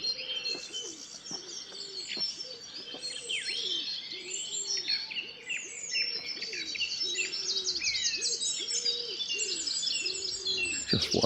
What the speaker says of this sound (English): Got blue tits in there. Wood pigeons getting involved.